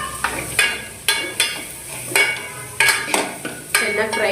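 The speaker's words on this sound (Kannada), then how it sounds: "ಇದೆಲ್ಲ ಫ್ರೈ ಆಗ್ತಿದೆ" Masala with tamarind frying in a pan for fish sambar, stirred with a steady run of about nine loud, close metallic scrapes and knocks over a continuous sizzle, with no talking.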